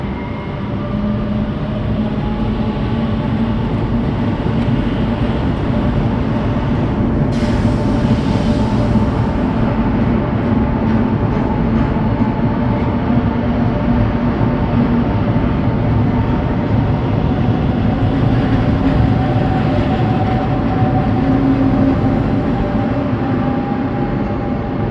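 A train pulls out of Lisbon Oriente station with a steady, loud rumble and rolling wheel noise, continuous for the whole stretch, with faint tonal hums and a brief squeal partway through.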